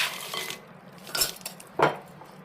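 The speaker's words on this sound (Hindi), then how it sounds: "ये बर्फ़ है और ये मैं बर्फ़ इसमें डालूँगा" Ice cubes dropped into a jug already holding a peach milkshake mix, giving a few separate clinks and clatters, one burst near the start and two sharper hits later, close and fairly quiet.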